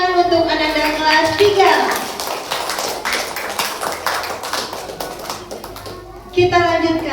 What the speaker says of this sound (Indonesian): tepuk tangan untuk Ananda kelas